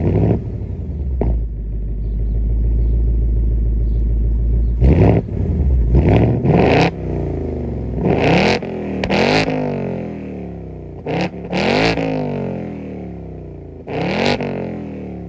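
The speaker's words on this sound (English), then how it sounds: "let's hear a couple more Coyote V8 revs" A Ford Mustang Dark Horse with a manual gearbox and Coyote V8 holds a loud, throaty drone, then snaps through a series of sharp, close revs, each swelling and dropping away quickly.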